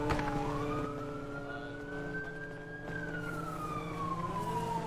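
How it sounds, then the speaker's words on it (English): A wailing emergency siren, likely a police car, rises and falls steadily across the whole stretch, loud and fairly close, with no talk over it, heard during a roadside stop involving a white Ford Mach-E. "I hear the siren."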